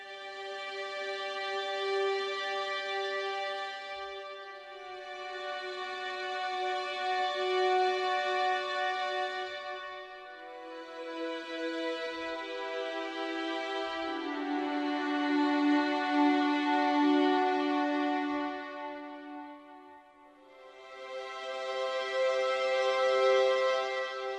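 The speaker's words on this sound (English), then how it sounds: "So let's start off with some Hans Zimmer Strings, and we have some violins, and they sound like this." Violins from the Hans Zimmer Strings sample library, processed through AIR Studios reverb, play sustained harmonic chords in several long swelling phrases, with a full, lush tone and a reverberant tail, with no talking.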